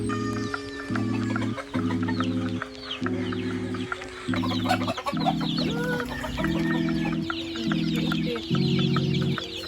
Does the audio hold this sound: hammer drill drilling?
no